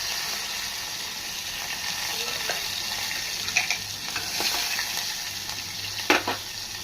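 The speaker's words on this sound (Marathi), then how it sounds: "जिरं राई टाकले, त्याच्यानंतर टाकते लसूण, मस्तपैकी ना तडका, आणि हिंग।" Cumin, mustard seeds, garlic and asafoetida sizzle in hot oil for a dal tempering, a steady close frying hiss with a few sharp crackles and stirring scrapes rising near the end.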